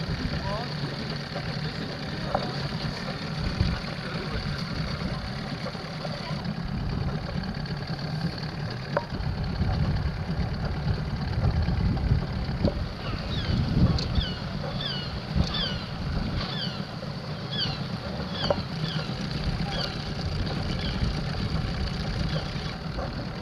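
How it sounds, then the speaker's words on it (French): An inflatable boat's engine idles at sea near seals, giving a steady low rumble mixed with water noise, while faint high calls chirp intermittently in the middle stretch. "Moteur au ralenti, ils se laissent approcher"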